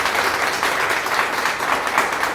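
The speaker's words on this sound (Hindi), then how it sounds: "मसीह के लिए एक ताली बजाएं।" A church congregation claps together in praise of Jesus, a steady, dense wash of applause that fills the room with no pauses and little speech.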